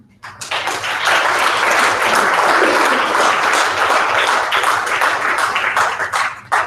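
A full audience applauds after a stage performance at a conference. The clapping swells quickly after a quiet start and stays loud and even to the end.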